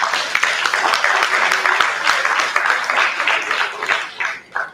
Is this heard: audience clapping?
yes